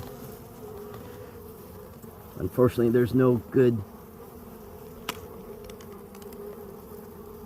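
A loud, droning buzz of honeybees at a hive swells in several pulsing bursts over a steady low hum, with a quiet voice nearby.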